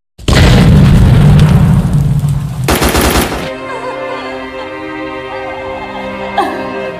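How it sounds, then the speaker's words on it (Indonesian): Grenade explosions inside a cave in a war film: a loud, close, booming blast with crackling debris for about three seconds, then a sharp second burst that cuts off into a low ringing tone. "tanpa peringatan langsung melemparkan granat ke dalam gua"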